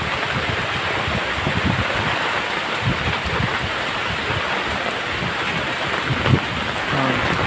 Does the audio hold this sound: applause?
no